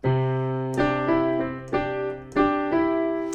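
A few struck piano chords ring out one after another in a steady pattern, each decaying slowly before the next, played alone without any voices.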